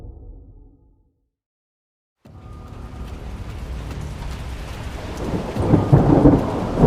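Heavy rain pours steadily after a brief silence, with deep rolling thunder rumbling and swelling louder toward the end.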